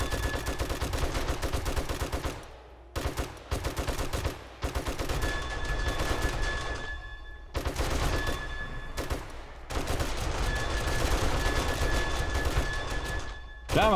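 Rapid bursts of automatic gunfire in the survival video game 7 Days to Die, loud and sustained in long volleys broken by brief pauses.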